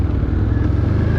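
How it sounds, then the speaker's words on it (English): An ATV engine, a Can-Am Outlander 1000R or Suzuki KingQuad 500, runs steadily on a compacted stone and clay trail in Pennsylvania's Susquehannock forest, a loud, close, continuous low rumble. "This engine is running."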